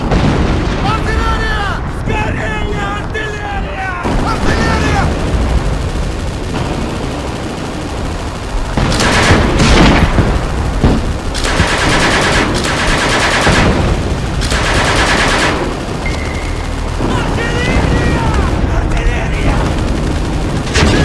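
Artillery blasts and gunfire in a Chechen war battle: heavy booms and bursts of shooting under a dramatic voice speaking over the noise, with loud impacts clustering in the middle and later stretches.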